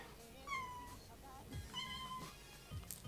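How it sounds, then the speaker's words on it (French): A domestic cat meows twice up close, each call drawn out and wavering, with faint room noise and small thumps between. "C'est mon chat."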